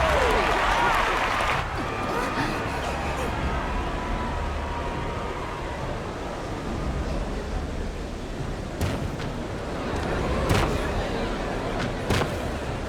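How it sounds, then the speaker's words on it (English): A crowd cheering and applauding in a Final Fantasy XIV cutscene, loud at first with a dense wash of clapping and roaring that eases into a lower murmur, with a few sharp bangs later and a voice talking over it. "How gracious of you all to cheer the lesser Glavans."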